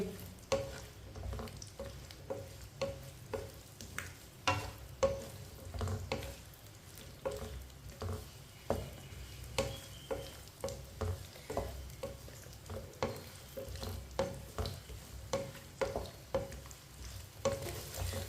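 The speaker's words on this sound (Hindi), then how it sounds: "टिंडों को हल्का सा ब्राउन कर लेंगे। 2-3 मिनट के लिए पका लेंगे।" Chopped tinda (apple gourd) browning in a pan, a continuous soft sizzle with rhythmic spatula scrapes and stirring thumps repeating roughly every half second, close and fairly quiet.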